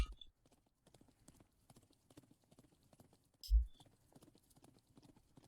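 Many horses' hooves clip-clopping in the video game Thronefall, a quick, faint, irregular patter of clicks spread through the clip, with one sharp low thump partway through.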